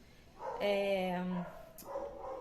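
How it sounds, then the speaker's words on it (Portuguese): Dogs bark in a Brazilian home setting: one loud, drawn-out bark or howl near the start, with a voice talking over and after it amid low background noise. "eu espero que seja um dia que esses cachorros não latam tanto"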